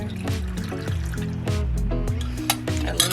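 Brine for fermenting carrots pours into a fermenting jar, a close trickling, filling stream with small drips, heard alone.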